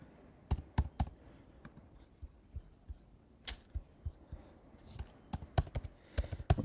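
Typing on a computer keyboard at close range, sharp irregular keystroke clicks in short bursts with small pauses between, with quiet room noise underneath and no talk.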